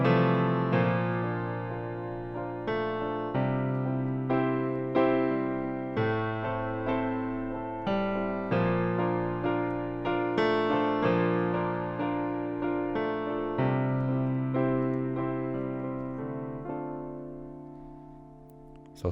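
A solo piano plays the chorus of a song, with steady repeated chords over a rolling left hand. It is moderately soft and clear, with no talking.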